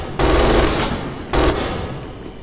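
An MG 42 machine gun fires in Red Orchestra 2, two loud rapid bursts, the first about half a second long and the second shorter, each trailing off into echoing reverb.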